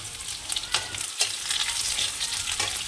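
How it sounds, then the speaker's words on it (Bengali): Vegetables frying in a pan with chopped onion and green chilli, a loud, steady sizzle with scraping stir strokes at intervals and no talking. "আগে এটা একটু ভেজে নিয়ে একটু পেঁয়াজ কুচনো দিয়ে দিই"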